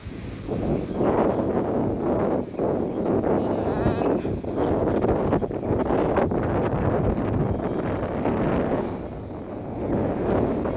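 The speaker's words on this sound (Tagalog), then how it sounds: "Lakas ng hangin. Parang natangayin ako." Strong wind roars steadily against the microphone, a loud, constant buffeting rush with brief gusty swells and no clear speech.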